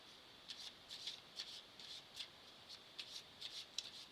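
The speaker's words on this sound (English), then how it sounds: "I'm going to do a bit more shuffling." Soft, quick riffling and slapping of tarot cards being shuffled, in a series of short bursts, close and quiet, with no talking.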